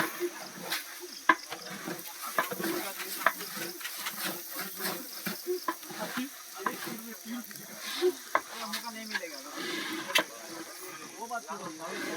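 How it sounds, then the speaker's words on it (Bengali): Rice frying and being stirred for pulao at a big village feast in Kalsi, a steady close sizzle of hot oil broken by scraping, clattering stirs that continue for the whole stretch. "চালটাকে একটু ভেজে নিলে একটু ভালো পোলাও বানানো হয়, তার কারণে চালটাকে একটু ভেজে নেবে"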